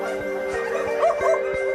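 Stray dogs at a volunteer-run private kennel holding over 700 rescued street dogs, several barking and yipping in short overlapping bursts over a steady background drone, fairly close.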